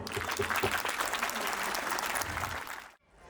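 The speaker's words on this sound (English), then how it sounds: "A big round of applause." Sustained applause from a school annual day audience, a dense steady wash of many hands clapping at full strength before stopping abruptly near the end.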